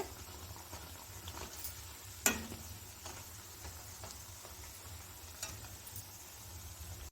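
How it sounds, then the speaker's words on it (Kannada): Bonda and pakoda snacks deep-fry in oil with a quiet, steady bubbling sizzle, broken by a few faint clicks and one sharper tap, heard alone. "ನೋಡಿ ಎಲ್ಲನೂ ಒಂದೇ ಥರ ಕಲರ್ ಬರೋ ಥರ ನಾವು ಫ್ರೈ ಮಾಡಿ ತಗೋಬೇಕಾಗತ್ತೆ"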